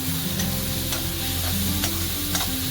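Tomato puree masala fries in oil in an open pan for Punjabi-style Amritsari pindi chole, a dense continuous sizzle with a low steady hum beneath and occasional light stirring ticks.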